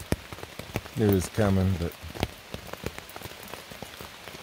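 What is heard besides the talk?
rain falling on a tent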